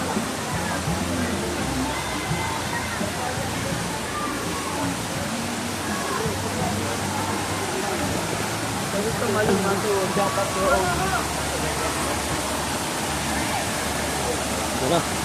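Balagbag Falls in Infanta, Quezon pours as a loud, steady broadband rush of falling water, continuous and close, with people talking faintly over it.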